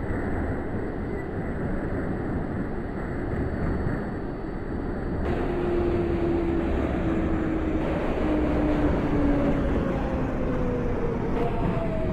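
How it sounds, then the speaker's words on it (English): An R142A subway train on a Parkchester-bound 6 local in the OpenBVE simulator runs steadily with a loud, continuous rumble of wheels and track, and a rising and falling motor whine drifts over it throughout. "This is a Parkchester bound 6 local train."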